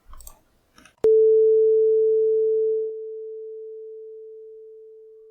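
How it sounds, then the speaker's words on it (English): A pure sine-wave tone generated by a Zig program through the PulseAudio backend begins abruptly after a few faint clicks, then holds steady while its volume fades smoothly and gradually. "This is a sine wave example which decreases the volume smoothly using the Pulse IDEO backend."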